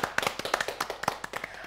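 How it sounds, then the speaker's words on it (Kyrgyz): Studio audience applause during a televised dance competition show, a burst of close, loud clapping with rapid irregular hand claps and no talk. "Кол чабуулар."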